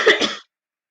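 One short, close cough with a rough throat-clearing edge: two quick bursts within half a second, then silence.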